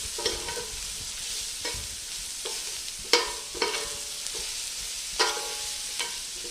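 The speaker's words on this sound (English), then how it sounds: "Give this a quick stir." Mushrooms and chopped rosemary stirred in a sizzling pan with pancetta drippings, a constant close hiss punctuated by several sharp spoon scrapes and clacks, no voices.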